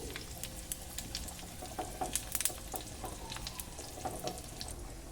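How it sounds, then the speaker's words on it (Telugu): A faint crackling sizzle of a tempering of cumin, a dry red chilli and asafoetida in hot oil for vegetable sambar, with scattered pops and clinks over soft background noise. "ఇలా మనం వేసుకున్న పోపు అంతా కూడా మనం సాంబార్లోకి యాడ్ చేస్తున్నాను"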